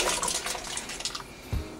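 Potatoes dropped into a pot of water for mashed potatoes, a running watery wash with light splashing and one heavier plunk near the end, close by.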